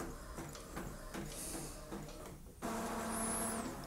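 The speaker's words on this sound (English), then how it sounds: "it will take more time to print, obviously, because the printer will take its time to create the best results" An Epson EcoTank ET-2850 printer prints a page with close mechanical whirring and rhythmic clacking as the print head moves across, then a smoother, louder feed whir with a brief high squeak near the end.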